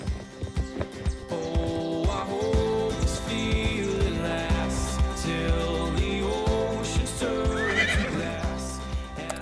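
Horses whinny and neigh repeatedly in a video game, Star Stable Online, over steady background music, with hooves clip-clopping along at a moderate distance.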